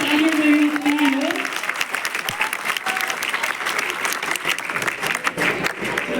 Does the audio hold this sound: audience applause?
yes